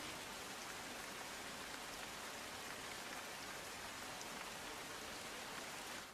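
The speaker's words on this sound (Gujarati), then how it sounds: "આજે વહેલી સવારે પણ અમદાવાદમાં વરસાદી માહોલ જોવા મળ્યો છે" Steady, heavy early-morning rain pours down continuously in Ahmedabad, a dense hiss of drops hitting surfaces with no voices or pauses.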